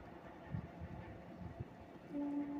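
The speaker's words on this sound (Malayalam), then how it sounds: "അതൊരു ഗുഡ്സ് ട്രെയിനാണ്, പോയിക്കൊണ്ടിരിക്കുകയാണ്" A long goods train rolls over a bridge, a faint, distant, steady low rumble that continues throughout, with a slight swell near the end.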